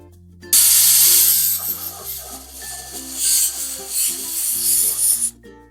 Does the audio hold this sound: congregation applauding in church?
no